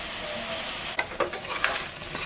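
Shrimp tossed into a pan of frying bottle gourd curry, giving a steady sizzle with several sharper crackles and stirring scrapes that pick up about midway, close and moderately loud.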